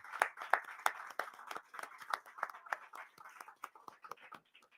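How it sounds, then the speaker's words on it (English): Light, scattered applause at a community commission meeting: a handful of people clapping unevenly, quiet and somewhat distant, with soft murmuring underneath. It thins out toward the end. "Let's give Utica a round of applause."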